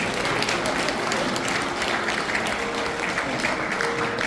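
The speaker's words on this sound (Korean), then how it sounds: "감사의 박수를 한번 부여버립시다" Sustained applause from a large crowd, steady and dense clapping filling the whole stretch without pause.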